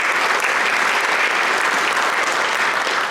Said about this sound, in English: Let's give them a round of applause for all of you.